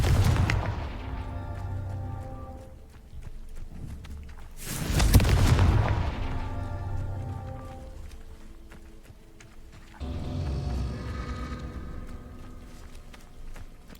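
Confringo blasting spell explosions in the Hogwarts Legacy video game during a Merlin trial: a loud boom bursts out, followed by rumbling blasts and crackling debris, with other dull impacts before and after.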